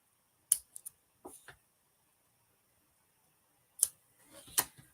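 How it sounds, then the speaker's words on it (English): Scissors snipping the trimmed ends of a knot on a handmade card, a few crisp, close cuts in small clusters separated by quiet pauses, no talking. "And then we're just going to trim up our ends."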